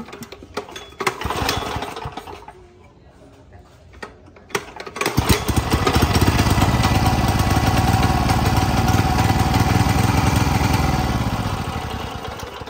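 A 5-horsepower Subaru small engine sputters and tries to catch with uneven bursts, then starts and settles into a loud, steady running drone close by.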